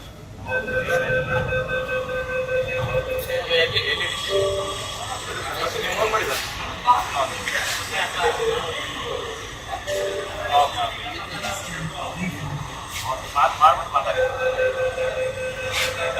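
A Bangalore metro train pulls out of Lalbagh station with a steady rolling rumble, rising hum and occasional chimes, while people talk over it inside the carriage.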